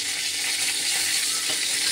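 A bay leaf and dried red chillies hit hot oil, giving a loud, dense, steady sizzle that runs unbroken from start to finish.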